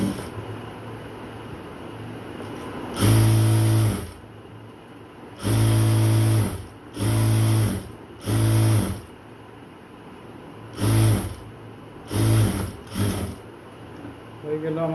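A sewing machine stitches a dress in several separate bursts of a second or so each, loud and close, with short pauses between runs. A person talks quietly in the background.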